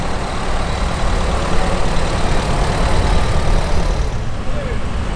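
International Harvester Model 300 tractor engine running steadily in an outdoor parade, a loud, continuous low rumble with broadband noise that holds level throughout.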